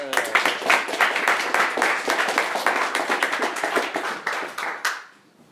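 A live audience in Efrat claps steadily for about five seconds, dense and close, then the applause quickly dies away.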